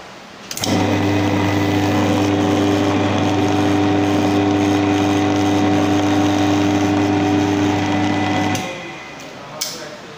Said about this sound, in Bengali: আসলে এখন মোটর যখন ঘুরতেছে এখন অনেক বেশি শব্দ হচ্ছে